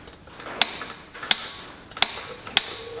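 A wrench is pulled gently on the flywheel bolts of a Massey Ferguson 135 tractor, giving four sharp, evenly spaced clicks close by against a faint background.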